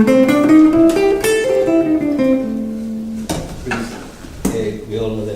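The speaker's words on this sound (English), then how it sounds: "So the blues scale sounds like this." A blues scale played as single clear pitched notes that climb steadily, then fall back down, followed by a few more struck notes, with no talking.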